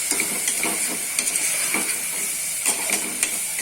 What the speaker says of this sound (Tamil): இப்போ நல்லா அந்த மசாலாலாம் எண்ணெயிலே போட்டு கொஞ்சம் வதங்கட்டும்